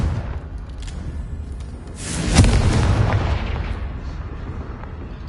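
A Confringo spell blast in the Hogwarts Legacy video game lands as a single heavy boom about midway, rolling out into a rumbling tail over a low background hum.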